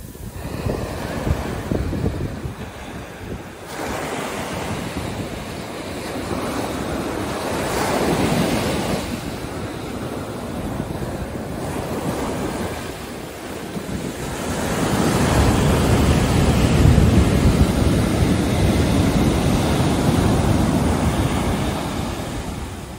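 Sea waves roll in steadily at Bogmalo Beach in Goa while a breeze blows across the microphone, making a continuous broad rush that swells and gets louder toward the end, with no voices.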